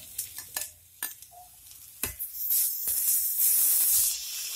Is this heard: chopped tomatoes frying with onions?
yes